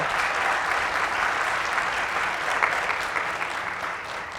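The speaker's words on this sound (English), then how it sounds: "Yes, that deserves applause," An audience at a Columbia Business School recognition address bursts into sustained applause, a thick, even wash of many hands clapping that carries through the whole stretch without letting up.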